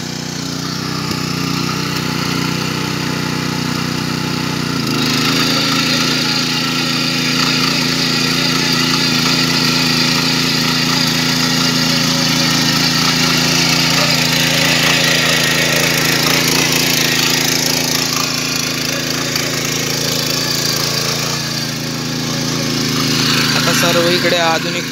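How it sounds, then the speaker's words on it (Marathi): A tractor engine runs steadily while ploughing a flooded paddy field in Konkan, a loud continuous drone with a rattling, buzzing edge throughout. "मंडळी ट्रॅक्टर चालू झालेला आहे"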